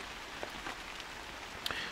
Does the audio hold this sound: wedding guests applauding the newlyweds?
no